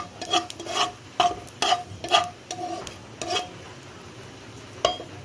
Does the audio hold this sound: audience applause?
no